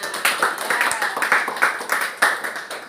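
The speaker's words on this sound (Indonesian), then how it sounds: "kita tepuk tangan semuanya" Children in a school classroom clap their hands together, a brisk run of sharp, close claps at an uneven rhythm with no voices over it.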